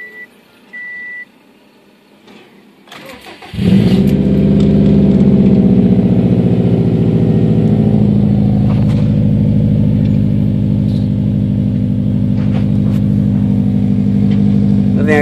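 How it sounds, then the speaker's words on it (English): A 2007 Subaru STI engine cold-starts after a few seconds of near silence, with a brief crank and then a loud, steady, rumbling idle that carries on without letting up. "So here it is, a cold start."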